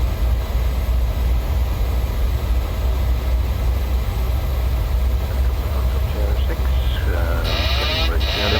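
An airliner's engines roar steadily in the cabin on approach, a dense broadband drone with a slight rise in power, while a voice speaks over radio-like chatter near the end.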